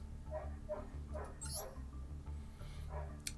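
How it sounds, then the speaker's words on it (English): A dog barks repeatedly in short, loud, insistent bursts at an even rhythm over a low background hum, sounding agitated and nearby. "That dog is, he's going wild. There's something out there."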